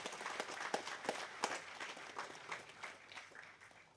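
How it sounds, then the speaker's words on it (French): An audience at an opening ceremony for graduating radiation-protection students applauds, a faint, steady patter of many hands with a few sharper individual claps standing out, gradually thinning toward the end. "Un chaleureux applaudissement pour cette étape franchie."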